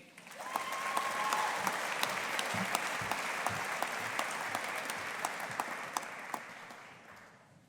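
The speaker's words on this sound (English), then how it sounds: "let's give the class of 2023 a big round of applause" A graduating class of 2023 at a Strathclyde Business School ceremony receives steady applause from the audience, a sustained wash of many hands with a few sharper claps standing out, heard from some distance and fading toward the end.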